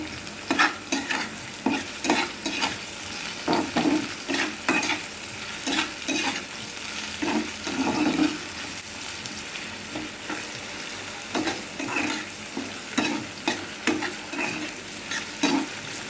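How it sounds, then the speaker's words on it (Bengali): Cut potato fries with onion, green chili and nigella seeds in a black nonstick wok, a continuous sizzle broken by repeated scraping stirs of a spatula every second or so, close and loud without talk. "আমি এখানে একটা আলু কেটে রেখেছি সেটাও দিয়ে দেবো। দিয়ে একসাথে ভাজা ভাজা করে নেব।"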